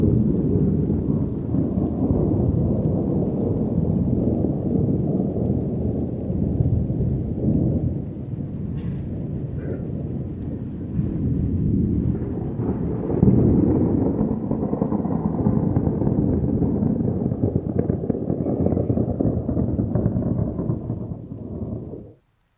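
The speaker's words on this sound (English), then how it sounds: "Silence except for the rumbling thunder in the distance and the falling rain." Steady falling rain with a low thunder rumble rolling in the distance, a continuous wash of sound with deeper swells, then cutting off abruptly at the end.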